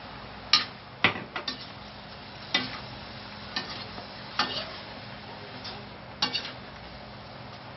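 A spatula stirs sautéed patola with shrimp in a pan, giving about a dozen irregular sharp scrapes and taps over a soft, low sizzle, close by and without talk.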